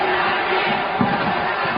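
Arena crowd at a 1996 wrestling anniversary show roars steadily and loudly throughout, a dense continuous wall of voices with a brief swell near the middle.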